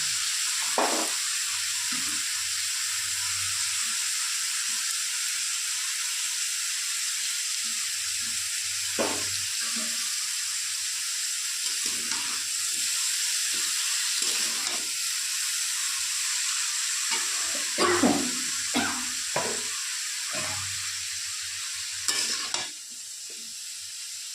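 Cut papaya, potato, eggplant, taro and long beans frying in a pan, a steady broadband sizzle and hiss with intermittent scraping stirs and clinks throughout, close and continuous with no voices.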